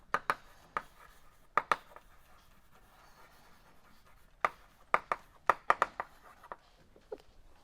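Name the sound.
writing on a board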